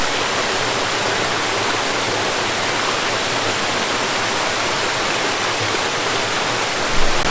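Clear mountain stream in Chefchaouen, Morocco, rushing steadily and close by, a loud, even wash of flowing water with no voices over it.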